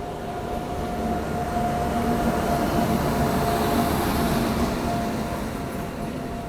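The Palnadu Express, a WAP7 locomotive hauling ICF coaches, pulls out of the station with a steady rumble and faint rolling rattle that swell slightly and then ease, heard from nearby without talk.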